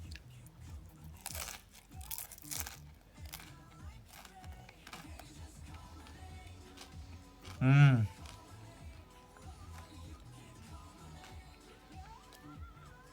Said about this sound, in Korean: 근데 여기 겉바속촉, 밖에가 완전 바삭. 바삭 소리.